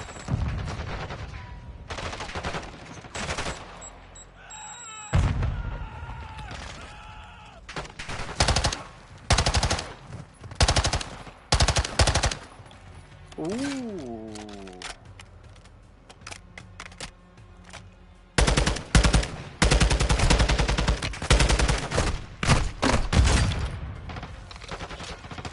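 Gunfire in Call of Duty Modern Warfare 2 on PS5: repeated loud machine-gun bursts and single shots in irregular clusters, with brief quieter gaps and a swooping mechanical sound midway.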